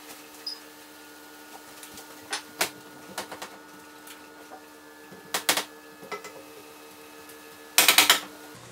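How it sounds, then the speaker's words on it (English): A knife dices cold butter on a board for pastry dough. Sparse, sharp, close chops and taps come in irregular clusters, with a final quick flurry, over a faint steady hum. "I am dicing in butter that I will then cut in with a pie crust cutter."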